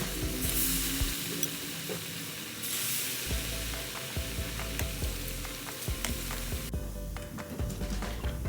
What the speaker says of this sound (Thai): ชุบเสร็จแล้วมาลงทอดเลยค่ะ